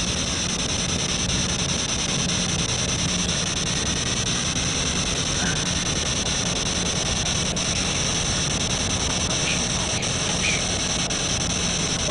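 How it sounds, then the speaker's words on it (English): Steady, dense hiss of static from an SB7 spirit box sweeping through radio channels, loud and unbroken for the whole stretch, with faint chirps and blips surfacing now and then. "He covers it up because it's white noise."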